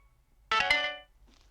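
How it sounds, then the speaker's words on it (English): A mobile phone sounds a single short electronic alert, a bright buzzy tone with rich harmonics lasting about half a second, then fades into near silence. "my phone went off"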